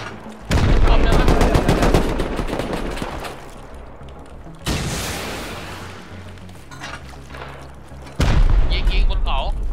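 Gunfire in the video game Rust: bursts of rapid automatic shots and loud booming blasts in several separate volleys, close and harsh, with excited voices talking over the action.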